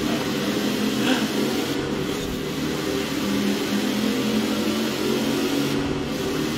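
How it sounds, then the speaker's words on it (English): A truck engine drones steadily while driving through a tunnel in the video game Forza Horizon 4, a loud, continuous rumble with a boomy, enclosed tone. "Truck sounds good in the tunnel."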